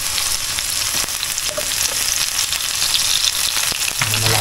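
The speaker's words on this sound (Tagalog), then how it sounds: "Nagigisa na ako ng ano, sibuyas, bawang, at luya." Onion, garlic and ginger sautéing in a hot pan give a loud, steady, crackling sizzle throughout, with a few faint stirring clicks.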